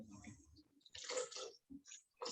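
About 100 grams of water is poured into a measuring cup on kitchen scales, a quiet splashing trickle in a couple of short bursts with gaps between.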